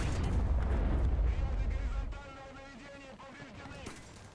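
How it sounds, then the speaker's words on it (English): Heavy booming artillery fire in War Thunder, an interwar French tank battle, rumbles loudly and close for about two seconds, then drops away to quieter game sounds while someone talks. "that placebo artillery's getting real fucking thick today"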